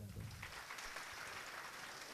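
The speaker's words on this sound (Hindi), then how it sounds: "एक अपने लिए ताली बजा दो" An audience at a school event claps together, a brief, fairly faint patter of many hands that runs a couple of seconds without speech.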